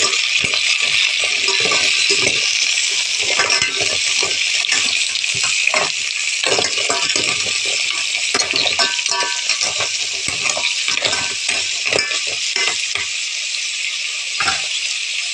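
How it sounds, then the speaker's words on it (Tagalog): Mussels hit a hot pan of sautéed ginger and garlic, giving a steady loud sizzle with scattered clinks and rattles of shells as they are stirred. "Lagay natin ang tahong."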